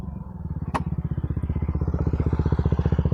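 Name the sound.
BombMoto B2 electric dirt bike accelerating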